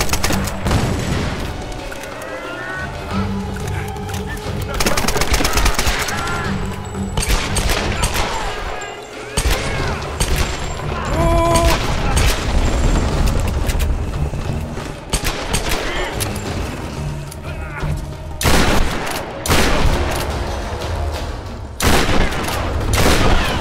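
Gunfire from the Tomb Raider video game crackles in dense bursts of rapid shots and booms, loud and close, with occasional pauses and a voice talking in between.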